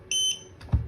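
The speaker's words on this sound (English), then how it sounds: "2 beeps here." Two short electronic beeps from a Mobotix door station's RFID card reader, close and clear, followed by a faint low thump.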